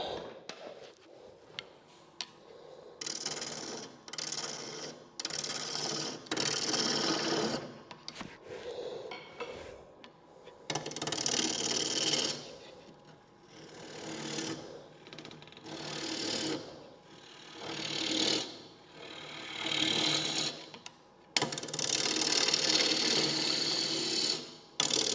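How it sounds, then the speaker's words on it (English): Wood being hollowed with a gouge on a lathe at a woodturning club night, a faint, uneven series of scraping and cutting bursts that swell and fade over a steady hum, with pauses between cuts. "I'm going to go straight in with a gouge and just hollow it out"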